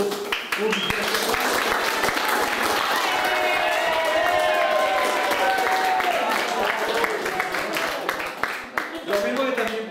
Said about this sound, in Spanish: Pido para ellos un aplauso